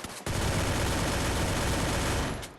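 A sustained, dense burst of automatic gunfire in the mobile shooter game Free Fire, loud and continuous for about two seconds, then stopping abruptly.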